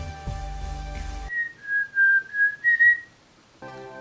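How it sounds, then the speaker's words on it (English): A person whistles a short melodic phrase alone, several clear sustained notes with brief gaps, close and fairly loud, between stretches of background music. "Can you whistle?"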